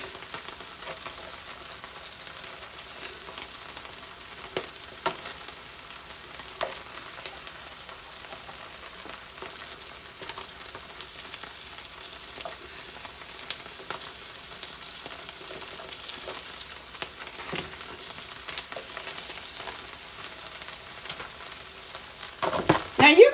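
Onions frying in a pan with pork chops for a garlic butter sauce, a faint, steady crackling sizzle with scattered pops throughout, plus a brief louder clatter at the end.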